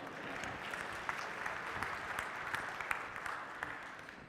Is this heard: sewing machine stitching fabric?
no